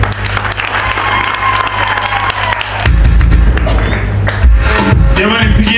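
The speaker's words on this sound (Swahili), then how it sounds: "pigieni makofi mengi, pigieni makofi mengi" Crowd applauding at an inauguration ceremony for new safe-house buildings in Butiama, steady loud clapping with cheers and some voices, swelling heavier partway through.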